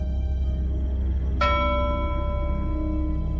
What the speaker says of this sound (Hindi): अचानक पुराने लाइट हाउस के अंदर से घंटी बजने की आवाज आई।